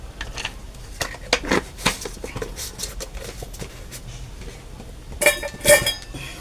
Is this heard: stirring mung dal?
yes